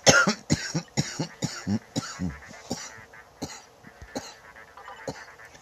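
A person coughs several times in quick succession, fairly close and dry, with a few short throat sounds in between and a quieter stretch toward the end.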